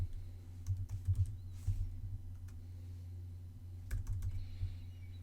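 Quiet keystrokes clatter on a computer keyboard in short irregular bursts while someone enters login details, over a low steady hum.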